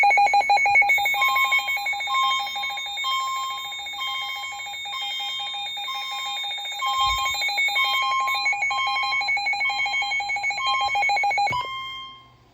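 A CH24MC fire alarm chime sounds during a wall test, a loud, close electronic chime repeating steadily on its own for about eleven seconds before cutting off abruptly.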